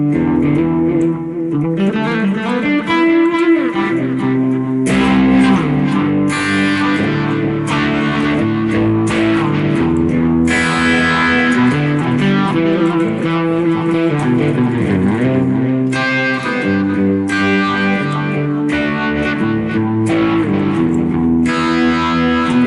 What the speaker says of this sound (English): now we're going to turn on the reverb, and now you sound like you're at an arena,